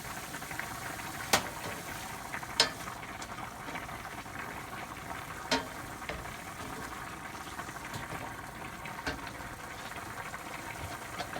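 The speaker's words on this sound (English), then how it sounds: "I'll go ahead and add those tomatoes to it." Tomatoes added to shrimp scampi sautéing in a pan: a quiet, steady sizzle and bubbling with a few soft clinks of utensils against the pan.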